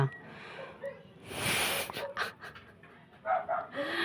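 A dog pants in quick, breathy bursts close by, with a few snorts and sniffs between the puffs.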